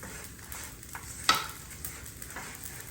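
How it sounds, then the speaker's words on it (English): Rice being stirred and toasted in a pan, with soft scraping of a utensil and a faint sizzle, one sharper clack of the spoon against the pan partway through. "Make sure you stir often so the rice cooks evenly."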